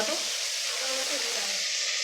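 Ground ginger and cumin paste fries in a kadai, giving a steady, close hiss with light stirring scrapes running through the whole stretch.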